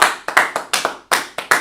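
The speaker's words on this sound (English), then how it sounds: "Clap it up." Hands clap sharply about nine times in a quick, slightly uneven rhythm, loud and close.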